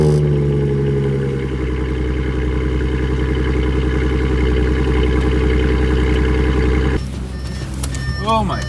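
An Audi S5 engine running steadily with a loud, even low rumble that continues for about seven seconds before cutting to quieter background noise with a few faint chirps.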